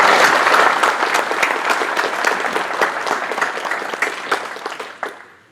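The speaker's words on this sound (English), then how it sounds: "let's take a moment to give all our speakers a round of applause" Loud audience applause at a Southern Textile Association business session: dense clapping close by that gradually thins and fades out after about five seconds.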